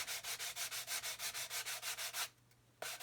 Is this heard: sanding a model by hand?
yes